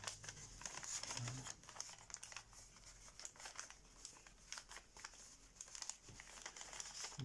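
Paper is creased and folded into an origami pteranodon, giving soft crinkling and rustling in close, irregular bursts at low volume.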